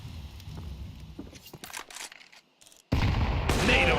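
Gunfire in a Counter-Strike esports match, with an AWP sniper rifle among the weapons: scattered sharp shot transients build to two loud, dense bursts of firing near the end.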